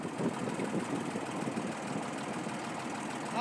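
A tractor engine idles close by, a steady low mechanical rumble with faint knocking that continues evenly throughout, with no voices.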